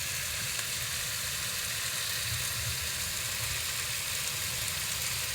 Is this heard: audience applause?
no